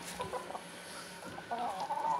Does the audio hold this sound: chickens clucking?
yes